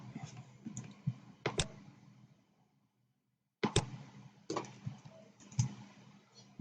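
Clicky computer keys are tapped in short irregular bursts, a few quick strokes then a long pause before more, fairly close and quiet.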